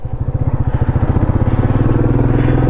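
A motorcycle engine labours up a ghat road at sunset on a long bike ride, a loud, close, steady thumping pulse that quickens slightly as it climbs.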